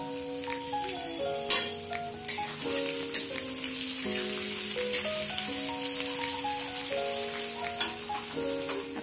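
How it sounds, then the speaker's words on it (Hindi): Onions sizzle steadily in a pan with garlic and green chilies for a mixed vegetable curry of potato, cauliflower and eggplant, with occasional stirring clicks over soft background music; no talking. "अब मैं प्याज डाल के इसे भूनूंगी।"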